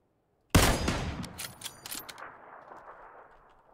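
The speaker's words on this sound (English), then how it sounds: "Yeah, yeah, I'm shooting at him." A sharp burst of gunfire in PUBG opens loudly after a short silence, with a long echoing tail that fades out over several seconds.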